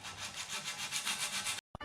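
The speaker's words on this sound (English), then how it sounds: "Just got to sand this a bit more" Hand sanding on a mountain bike frame, a steady run of rhythmic scraping strokes, close and even, ending abruptly with a brief final rub.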